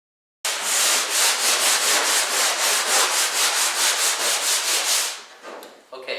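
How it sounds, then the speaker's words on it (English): Hand sander with 80 grit rubbing the inner hull of a cedar strip canoe: loud, close, rhythmic back-and-forth scratching strokes, about fifteen in a row, then tapering off into a few lighter rubs. "using the hand sander, you want to be using 80 grit"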